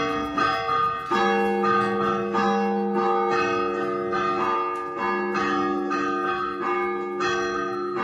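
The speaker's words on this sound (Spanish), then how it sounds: "cómo toca las campanas. Vamos a escucharlo un poquito" Church bells rung by hand by a 90-year-old bell ringer, loud metallic strikes in a steady, repeating rhythm with long ringing overtones that overlap and sustain throughout.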